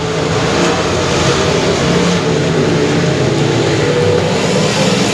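Open-wheel modified race cars at the 3rd Annual Armadillo Nationals roar past on a dirt oval, a dense, loud wash of engine noise with racing cars running side by side, sustained throughout.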